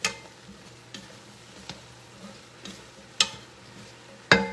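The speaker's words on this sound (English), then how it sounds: "Alright, we give this a little stir." Potatoes stirred into stew in a pot, with a few spaced spoon scrapes and knocks against the pot over a low hum, the last two strokes sharper and louder, close, no talk.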